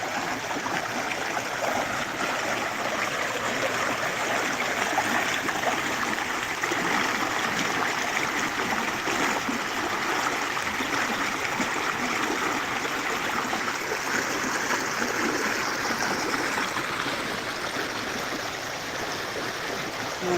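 A river stream runs over rocks along a slimy woodland stretch, a steady broadband rush of flowing water that stays loud and continuous throughout, with no voices.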